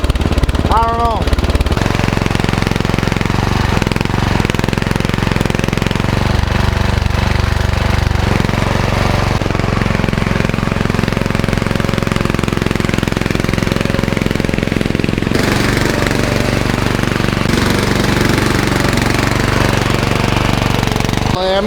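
A racing lawn mower engine runs loud and steady throughout, its rough chattering note holding without a break while sharp popping backfires poke out at points; someone talks over it.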